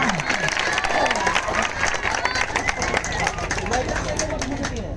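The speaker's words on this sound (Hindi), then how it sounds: "एक बार जोरदार ताली।" A school crowd gives loud, dense applause for the winning quiz team at a Saraswati Puja quiz competition, a steady roar of clapping with cheering and chatter throughout.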